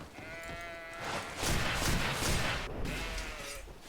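Sheep in the Greedfall video game bleat in a couple of wavering calls, close and clear, separated by a louder burst of thudding game noise in the middle, with no talk.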